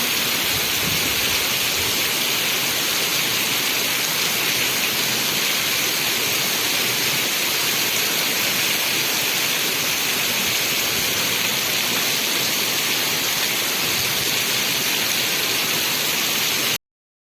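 Heavy rain pours down in a dense, constant hiss that stays loud and unbroken from start to finish.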